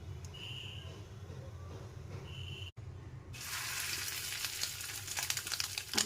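Fish sizzling in hot mustard oil for Bengali macher dim, a quiet low hum for the first three seconds, then a loud broadband frying hiss that stays steady to the end with crackling pops.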